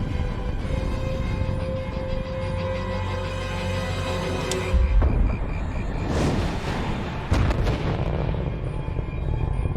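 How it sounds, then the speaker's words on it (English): Nuclear missiles launching in a film scene, a sustained loud rumbling roar with a thunderous burst midway and further booming blasts, dense and cinematic with no speech. "They're launching nukes at each other."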